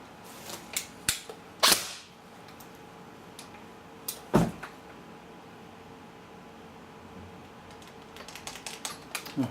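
Tokyo Marui SOPMOD M4 airsoft rifle with a Prometheus spring guide test-fired in a workshop, giving a few sharp, close snapping shots spread through the clip with quiet clicks and handling noise between them.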